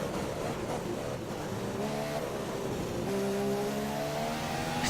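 McLaren F1 car engine in the F1 2015 racing game, a steady high-pitched whine that climbs in pitch as it accelerates toward the end, loud and continuous with no talk.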